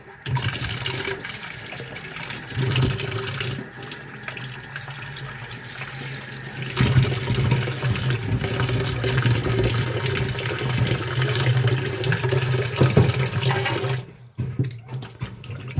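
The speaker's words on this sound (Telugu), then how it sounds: "ఫస్ట్ కడగాలండి నీట్గా. ఇలా కడిగేసి నీట్గా కడుక్కొని" Spiny gourds (boda kakarakaya) being washed by hand under a running kitchen tap, a steady close stream of splashing water with handling noises, stopping abruptly near the end.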